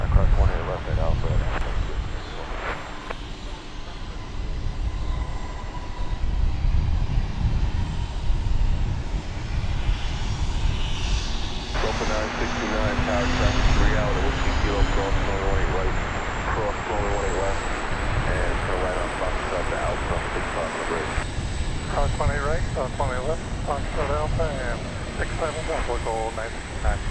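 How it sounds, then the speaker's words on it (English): A Spirit Airlines airplane approaching at DFW Airport, its engine roar steady and fairly loud, with radio chatter and people talking over it. "There's a Spirit plane headed our way."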